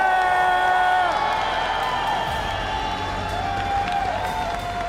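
Large arena crowd cheering and whooping at the Clash Royale world finals esports event, a dense continuous roar with shouts rising throughout, loud and steady.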